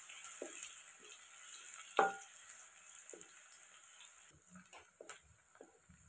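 Sliced onion fries in oil in a kadhai on a wood-fired chulha until golden, giving a faint continuous sizzle with a few sharp stirring knocks and scrapes.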